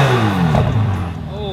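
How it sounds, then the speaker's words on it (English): A Ferrari F8 Spider, Keyvany limited edition fitted with new exhaust pipes, revs at a car show; a loud, close engine note rises and falls with voices talking over it. "Ryan, rev this thing up."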